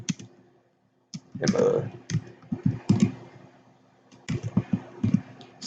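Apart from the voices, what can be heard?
typing on a computer keyboard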